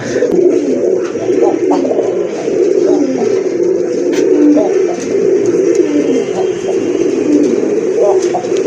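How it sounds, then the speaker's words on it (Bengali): A male Rajgolla pigeon coos repeatedly in close, loud, rolling calls, with other pigeons cooing around it in a busy loft and a voice faintly underneath. "এই যে দেখেন কবুতরটা কিন্তু প্রচুর ডাকে"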